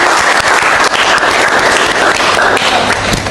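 Students applaud in a nursing school classroom during a lesson, a loud, dense burst of clapping that fills the whole stretch without talk.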